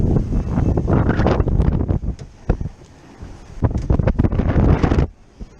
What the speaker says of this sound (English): The wind's all over the place.